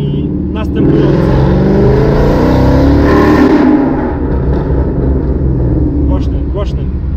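Loud exhaust of a 550 HP Ford Mustang revving up and holding high before easing off, a close, continuous engine roar with people talking over it.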